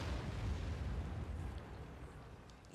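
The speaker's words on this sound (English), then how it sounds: "Looked like our artillery just fired a shot." Artillery fires in a video game with a deep, rolling blast that fills the whole clip and slowly fades, heard alone without talk.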